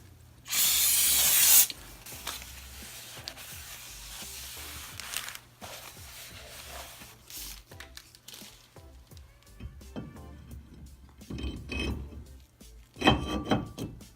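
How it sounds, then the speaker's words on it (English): A loud burst of aerosol brake cleaner sprayed onto a new brake rotor of a Honda Civic hisses for about a second, followed by quieter handling noises, clicks and a couple of later short sprays. "I'm going to spray the new rotor with some brake clean"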